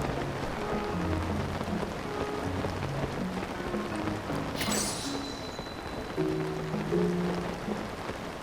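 Steady rain pattering across the landscape in the video game Zelda: Tears of the Kingdom, a continuous even hiss with soft game music tones underneath and a brief brighter chime midway.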